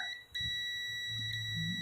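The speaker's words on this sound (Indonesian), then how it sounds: "Mode buzzer itu yang bunyi dia ya teman-teman." A SHUNSHINE DT-19N multimeter set to buzzer mode gives a steady, continuous high electronic beep. The tone is loud and sustained, has a brief dip near the start, and carries a faint low rumble underneath.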